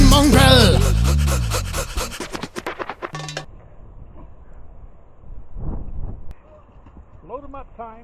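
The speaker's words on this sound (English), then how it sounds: "Get back, Gruffy, bash Gruffy, get back, you flea infested mongrel" Dogs pant loudly and rapidly up close at the start, with shuffling and scratching movement, then quieter breathing and scuffling follow with a voice talking over parts of it.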